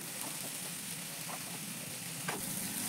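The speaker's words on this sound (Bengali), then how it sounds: "মাশরুমগুলো দিয়ে আমি আবারও একটু ভালো করে কষিয়ে নেব" Mushrooms sizzle in a pan as they are sautéed in a spiced masala for Bengali mushroom kosha, a soft steady frying hiss with an occasional stirring clink.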